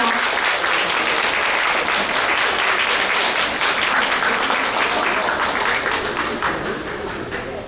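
A crowd at an outdoor memorial cultural event for the 5.18 uprising anniversary in Suncheon gives sustained, dense, loud applause that fades slightly near the end.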